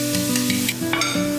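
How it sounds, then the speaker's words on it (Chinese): Minced garlic fries in a little oil in a hot clay pot, a loud, close sizzle with steady crackling and quick scraping stirs against the pot. "起锅烧油，砂锅烧热，下一点油，把蒜蓉爆香"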